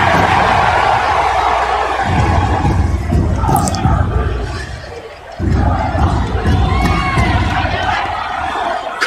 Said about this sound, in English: These psychos over here cheering for this violence.